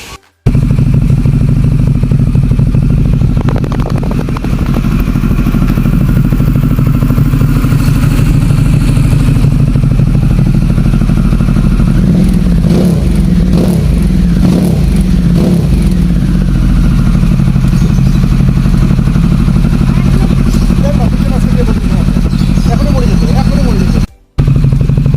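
A Harley-Davidson Pan America 1250 fitted with a Pazoma exhaust runs loud and close for about 24 seconds, rumbling steadily with bursts of revving in the middle, then cuts off abruptly near the end.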